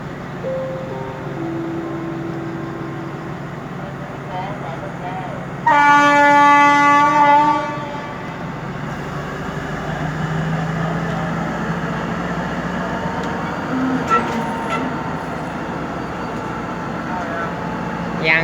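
ALSTHOM 4119 diesel locomotive hauling ordinary train 202 from Phitsanulok to Bangkok, stopping at Bang Mun Nak station, rumbles steadily while a loud horn blast sounds for about two seconds. Station announcements and voices run under the engine drone.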